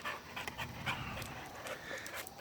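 A dog pants in quick, steady breaths close by for a couple of seconds, with faint whimpering hints and no talking.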